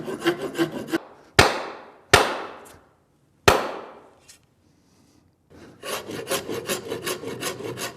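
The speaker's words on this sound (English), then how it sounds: "By filing that edge out, when I drive this handle out of the axe head" An axe head's edge being worked with a hand file, harsh rasping strokes at the start and end, broken in the middle by several sharp, ringing metallic strikes that quickly fade.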